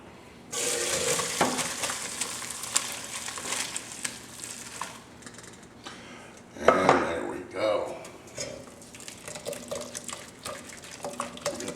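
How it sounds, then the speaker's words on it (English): Hour-simmered shrimp stock poured through a strainer for a Creole shrimp stew brings clattering metal and pot knocks, liquid splashing, and a louder burst of pouring and scraping midway. "Now we're going to strain everything out."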